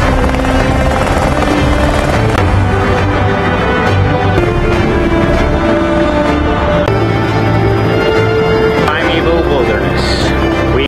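Steady loud rotor and turbine drone of a private helicopter in flight, filling the whole stretch without letup, with a voice talking over it.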